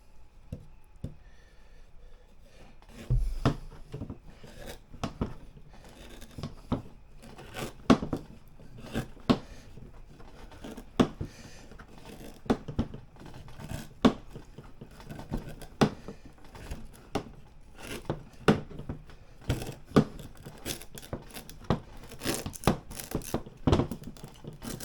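Sugarcane stalks are chopped into sections with repeated sharp cutting strikes and crunchy snaps at irregular intervals, close up and fairly loud, with no talking.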